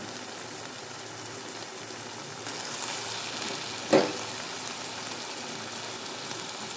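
Small prawns frying in a pan at home, a soft, continuous sizzle with a brief louder crackle partway through, heard close and steady without any voices.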